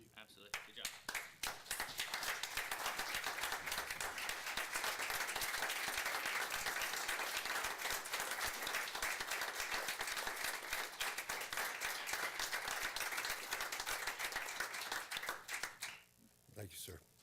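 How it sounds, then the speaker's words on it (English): An audience at a Turlock City Council regular meeting claps after a speaker: dense, continuous applause swells in over the first two seconds, holds steady for about fourteen seconds, then stops abruptly with a few scattered claps afterward. "This is beautiful, and I want to applaud"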